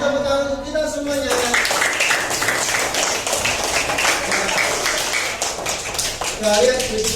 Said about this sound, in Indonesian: Beri tepuk tangan untuk kita semuanya.